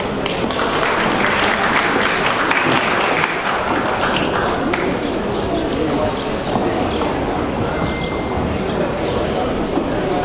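Audience applause at a Romanian company's 30th-anniversary ceremony honouring partners and agricultural firms, a steady dense wash of many hands clapping, loud and continuous throughout with a few sharper claps on top.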